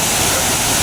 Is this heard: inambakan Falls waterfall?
yes